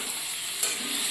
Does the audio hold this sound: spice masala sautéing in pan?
yes